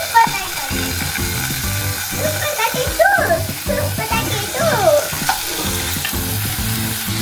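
Food fries in ghee in a pan at home, with steady close sizzling broken by scraping stir strokes and clicks and no talk.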